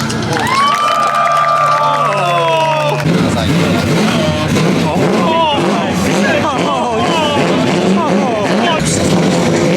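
A crowd at a Clean Culture car meet in Japan cheers and shouts loudly and continuously during a rev battle, with high whistling tones early on before the noise turns into a dense, excited roar.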